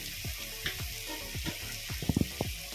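Chopped banana flower goes into a pan where potatoes and meat are already cooking, giving a steady frying sizzle with a few short bumps and stirring clatters near the end, with no talking.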